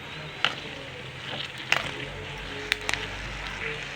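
Nut pieces fry in a pan for thalikala payasam, giving a steady soft sizzle with a few sharp ticks and taps as they are stirred, close by and with no talking.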